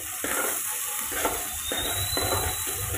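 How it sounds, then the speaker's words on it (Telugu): Onions frying in hot oil in a pan, a steady close sizzle with soft stirring scrapes pulsing through it, no voices. "ఇప్పుడు ఆనియన్స్ వేసుకుంటున్నా. ఇంకా కొన్ని ఆనియన్స్ వేసుకుందాం. వేసుకొని ఇట్లా మంచిగా నూనెలో మగ్గనిచ్చుకుందాం"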